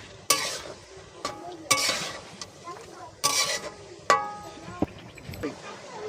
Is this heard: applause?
no